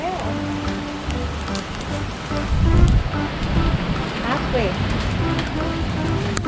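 Rain falls steadily on a garden during a July storm, with hail starting, a continuous patter of drops hitting plants and surfaces nearby while people talk over it.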